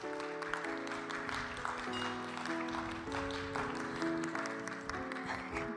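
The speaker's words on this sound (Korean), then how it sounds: "함께 박수로 격려와 응원을 보냈으면 좋겠습니다" A church congregation at a Sunday youth worship service in Jeju claps in encouragement, a soft steady patter of applause under sustained organ-like musical tones.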